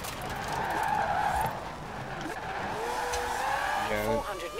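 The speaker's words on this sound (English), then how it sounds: "Some actually terrifying cornering there." Car tires skid and squeal through a hard corner in the racing game Forza Horizon 4, a continuous loud engine roar and tire screech with pitch sweeps near the end, a voice speaking over it.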